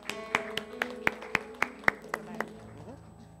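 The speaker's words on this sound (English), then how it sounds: "Let's give the Lord a clap of praise today." Rhythmic clapping from a church congregation praising during a service, about eight sharp, evenly spaced claps over a sustained organ or keyboard chord, fading out near the end.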